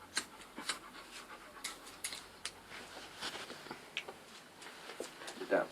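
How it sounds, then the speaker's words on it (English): Rottweiler panting in quick, irregular breaths close by, with scattered soft rustles and brief bursts of sound, and voices around it. "It's a Rottweiler"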